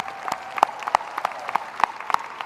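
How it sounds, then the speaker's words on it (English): An audience at a university new student convocation applauds for the university president, with scattered, fairly sparse claps in a large hall. "Please join me in a round of applause for our president"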